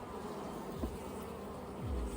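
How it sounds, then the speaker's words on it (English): Honeybees buzzing steadily on a hive frame during a brood inspection, a close, continuous drone of many insects with no talking. "Lots of little young bees are wandering around."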